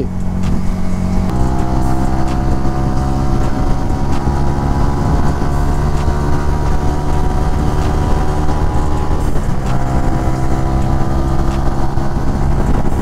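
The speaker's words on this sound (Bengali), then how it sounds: "এক্সস্টের সাউন্ডে একদম পুরা কাঁপায় আলায়।" A Honda CBR 150R sport motorcycle's exhaust gives a steady, loud drone with layered harmonics throughout, briefly dipping and returning near the end, with no voices.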